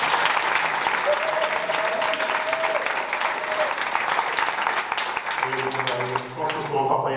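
Audience applause for contestants at the final of a 2023 French eloquence contest, steady dense clapping filling the room throughout, with a brief tonal hum partway through and a few voices near the end.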